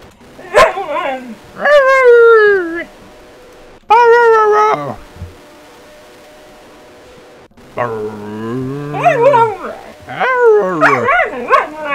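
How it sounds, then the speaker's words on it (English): A dog in a Roblox game lets out high yips and drawn-out whimpering whines in loud close bursts, with a pause of a few seconds in the middle. "You can hear that dog."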